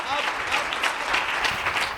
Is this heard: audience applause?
yes